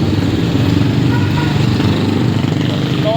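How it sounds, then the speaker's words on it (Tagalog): A motorized tricycle putters past on a busy street during a walk, its buzzing engine loud and close, with a continuous background of traffic and crowd noise. "Tricycle lang."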